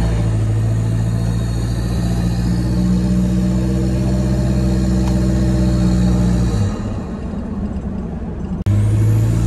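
Toyota Hilux fitted with a stainless snorkel drives up a slight hill, its loud, steady engine and exhaust drone rising under load, then the note shifts and eases near the end with a brief bump.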